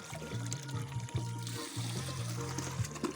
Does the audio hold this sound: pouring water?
yes